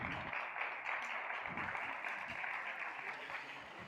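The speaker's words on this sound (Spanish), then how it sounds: "Les pido un aplauso para ellos." Audience applause for panelists at a water and sustainability investment panel, moderately faint and steady, a soft wash of clapping lasting a few seconds.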